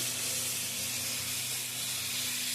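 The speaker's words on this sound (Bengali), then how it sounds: "এবার আস্তে আস্তে জল দিয়ে দেবো" Water poured into a pan of sizzling paneer masala with slit green chilies gives a steady, close hiss and sizzle that carries on evenly throughout, with no talking.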